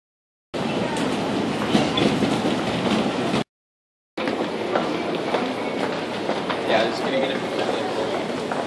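Busy train station ambience in Japan: rumbling rail cars and clatter mixed with crowd chatter, briefly cut off, then resuming.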